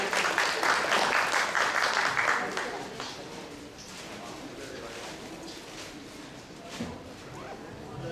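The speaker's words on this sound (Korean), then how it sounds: "여러분 큰 박수 부탁드립니다" An audience at a tax lecture applauds for about two and a half seconds, then the clapping dies away into room noise with a few scattered claps and murmurs.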